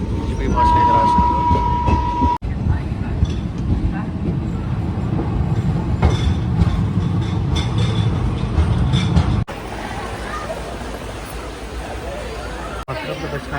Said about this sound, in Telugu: ట్రైన్ వచ్చేసి గుంటూరు ఎక్స్ప్రెస్ ట్రైన్ ఇది.